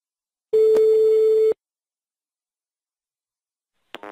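A single steady telephone tone sounds for about one second while a call is placed, clear and alone against silence, followed by a brief electronic blip near the end.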